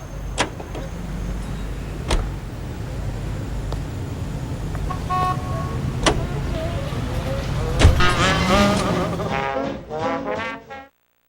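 Car driving in the video game L.A. Noire, a steady engine and road rumble running throughout, with a few sharp clicks and a burst of tonal chimes near the end before cutting to silence.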